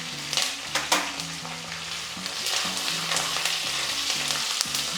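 Curry leaves and dried Byadgi chillies fry in hot oil for bisi bele bath, giving a loud, continuous close-up sizzle broken by clinking, scraping stirs in the pan.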